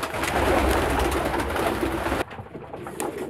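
Pigeons coo in a breeding loft, a soft, repeated throaty burble from several birds nearby that cuts off abruptly partway through, leaving quieter coos behind.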